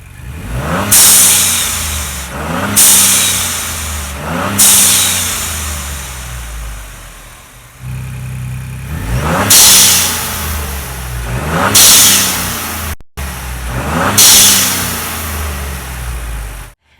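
Turbocharged Ford Bronco engine revving in repeated bursts, each followed by a sharp hissing whoosh of a Turbosmart blow-off valve venting; loud and close, no talking.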